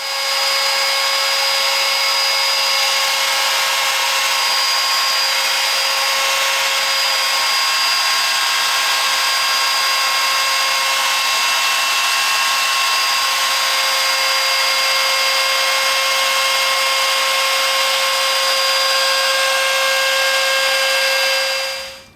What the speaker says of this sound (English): what you just watched there was the maiden voyage and the test of the pattern or the template here for routing of that detail